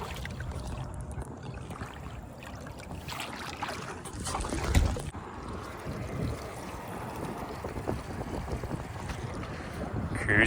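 A Bay Craft 17'5 skiff motors across the water near Jacksonville, its engine a steady low drone under strong wind buffeting the microphone and splashing hull noise, with one louder gust or slap midway.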